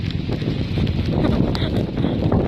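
Strong wind roars and buffets steadily for the whole stretch at a rainy beach, a dense, constant rush with gusty flutters close to the microphone.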